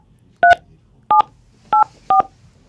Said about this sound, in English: Something has to be wrong with this person's phone because she is locked in on the dial.